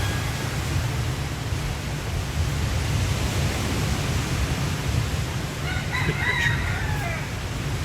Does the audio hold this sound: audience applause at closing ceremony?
no